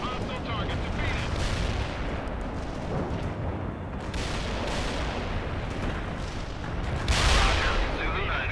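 Mortar fire in the video game World in Conflict, a dense, continuous barrage of booming and crackling blasts with a louder burst near the end, with no voices.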